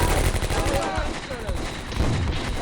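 Dense WW2 gunfire crackles in the Combat Mission video game as paratroopers assault a radar station, a rapid rattling fusillade of shots that is strongest early and continues steadily under faint voices.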